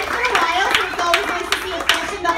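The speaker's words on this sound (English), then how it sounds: "Big round of applause for Mason." Crowd applause and cheering after a child's dance performance on a stage, steady clapping throughout, fairly close, with voices mixed in.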